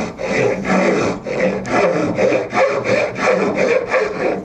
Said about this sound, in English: I'm just going to take a little rasp and I'm just going to start working it in that kerf